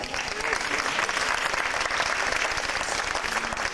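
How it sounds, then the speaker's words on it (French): An audience applauds with steady, dense clapping that carries on evenly for several seconds, somewhat distant, with a few voices mixed underneath. "On peut l'applaudir."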